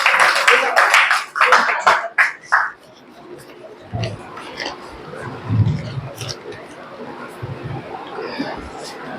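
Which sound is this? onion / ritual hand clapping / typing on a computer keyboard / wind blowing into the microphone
ritual hand clapping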